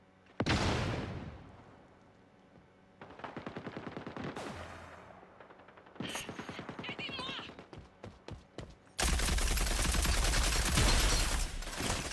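Gunfire in the Rogue Company shooter game on PS5 sounds in bursts of rapid shots and loud blasts, including a sniper, with a player talking over the gameplay between the volleys.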